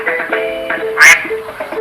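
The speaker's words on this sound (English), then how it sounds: "And that duck." A duck quacks once, a short nasal burst standing out over ongoing talk and background voices.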